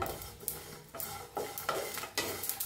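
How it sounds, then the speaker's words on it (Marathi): Sesame seeds being dry-roasted in a pan on a gas stove, scraped and stirred in repeated rustling strokes with a light crackle, close and alone without talk. "आता ह्याच्यातच तीळ बी भाजून घेऊया"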